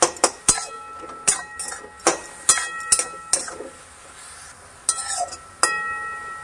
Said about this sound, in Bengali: এরপর এটা একটু মিশিয়ে নিচ্ছি